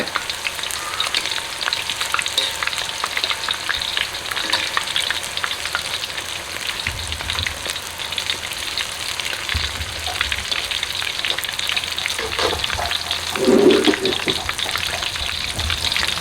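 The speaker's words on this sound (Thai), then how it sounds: "ต้องให้น้ำมันร้อนๆนะครับนี่ครับใส่ลงไปเขาจะ ฟองฟูแบบนี้นี่อ่า" Wontons deep-frying in plenty of hot oil, a dense, loud and continuous bubbling crackle that stays steady throughout, with a brief low knock near the end and no speech.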